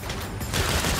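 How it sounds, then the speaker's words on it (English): A burst of gunfire in the Saints Row video game, dense rapid automatic shots blurring into a loud crackling roar that swells in the second half, with no voices. "Why am I seeing gunfire at the back of that convoy?"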